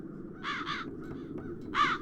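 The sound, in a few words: crows cawing in video game The Dark Eye: Chains of Satinav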